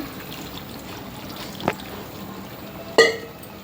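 Cold water is poured into a pressure cooker in a home kitchen, heard as two brief splashing gushes over a quiet background, the second louder and closer.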